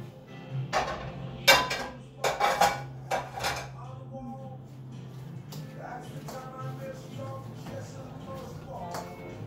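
Diced apple stirred into protein pancake batter in a bowl, a cluster of loud clinks and knocks from a utensil against the bowl early on, then softer scraping and tapping while a voice talks.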